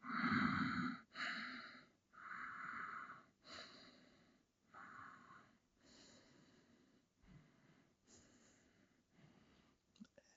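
Slow, audible breaths during a yoga class, long drawn inhales and exhales repeating in a steady rhythm, close and breathy, gradually fading, with soft voice-like tones mixed in.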